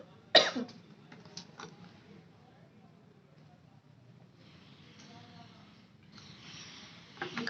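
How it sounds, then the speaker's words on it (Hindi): A single sharp cough near the start, with a few softer throat noises and light rustling later, during a quiet indoor maths lesson; someone speaks at moments around it. "खांसी खत्म नहीं हो पा रही बस।"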